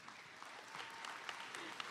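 Faint, distant applause fills a commencement ceremony hall, a thin steady patter of clapping with a few sharper claps standing out.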